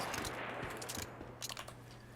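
Automatic gunfire in the survival shooter game Once Human, rapid bursts of sharp shots in two quick clusters over a low steady hum, fairly faint and with no speech.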